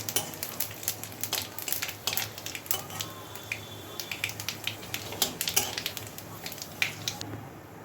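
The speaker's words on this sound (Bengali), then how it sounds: "পাঁচফোড়নটা ভাজা হয়ে গেল" Panch phoron whole spices with a dried red chilli frying in hot oil in a pan: soft, steady crackling and sputtering pops, close and fairly quiet, with occasional stirring clinks.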